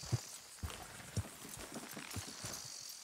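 Steady clip-clop of horse hooves at a moderate pace in the video game Red Dead Redemption 2, with a faint background wash and no talking.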